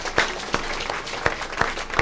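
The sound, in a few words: applause at a funeral ceremony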